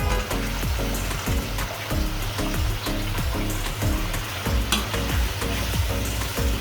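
Fish sizzles and crackles in hot oil in a pan, a steady dense frying hiss with rhythmic stirring or scraping thuds throughout.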